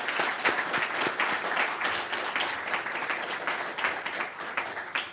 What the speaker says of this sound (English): Would you please join me with a round of applause for those individuals who have given their time and